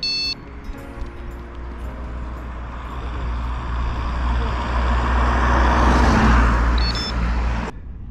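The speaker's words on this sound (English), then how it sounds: "There's another one coming." A car approaches from behind a cyclist on the road, its engine and tyre roar steadily rising to a loud pass before cutting off, with brief electronic beeps from a cycling radar at the start and near the end.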